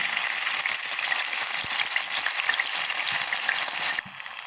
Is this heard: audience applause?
no